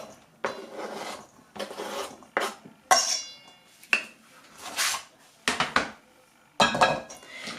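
Sliced lightly pickled cucumbers are dropped and tossed into a mixing bowl, giving a series of short scraping, clinking bursts separated by pauses, close and fairly quiet.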